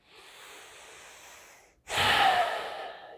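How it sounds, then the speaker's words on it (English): A slow, conscious deep breath drawn in through the nose, then a louder, fuller breathy exhale close to the microphone. "you can just take a conscious deep breath"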